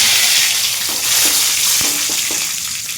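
Bay leaves sizzle in hot oil after dried red chillies, while cooking Bengali fish-head ghonto; a loud steady hiss with a few soft clicks and pops near the pan.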